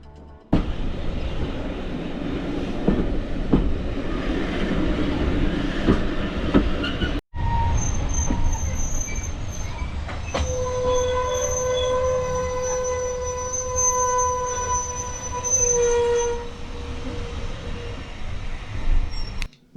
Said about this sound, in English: We then had time to admire these wonderful engines moving backwards and forwards.